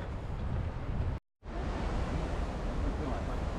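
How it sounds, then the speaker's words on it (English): Surf breaking on a windy Baltic Sea beach at Klaipeda, Lithuania, a steady broadband wash of waves and wind that fills the whole stretch, broken by one short moment of silence. "Let's check out the Klaipeda beach and see how it stacks up."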